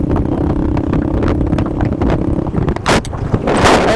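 A Bajaj Pulsar 220 motorcycle rides fast down an empty road at night, with loud, steady wind buffeting over the microphone above a low engine drone and sharp gusts near the end.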